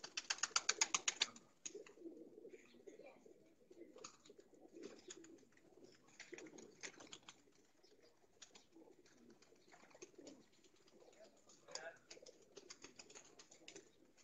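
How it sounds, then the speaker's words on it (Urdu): Pigeons at a rural pigeon keeper's yard give soft, low cooing that runs steadily through the clip, with a flurry of brighter chirps and wing or bird noise at the start and occasional clicks over the murmur. "بہت ہی زبردست کبوتر ہیں جی یہ دیکھیں"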